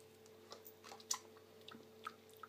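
Crisp, soft bites and chewing on a wafer with a crispy shell and chocolate fondant filling, a coconut or cappuccino variety, heard close up as scattered small crunches and wet chews over about two seconds.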